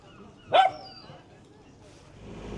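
Dog in pyjamas in a café, one short sharp bark standing out, then quiet room ambience with faint background voices.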